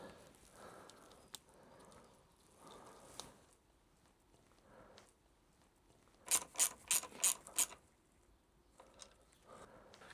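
Ratchet tightening the nut under a KTM 390 brake lever: a quick run of about five sharp, close clicks in the middle, with soft handling and rustling noise around it.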